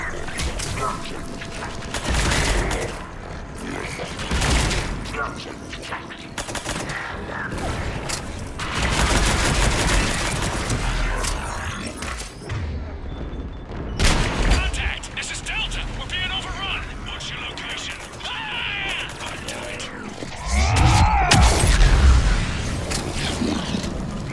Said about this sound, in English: I love that we have that explosion when we utilize the infinite rounds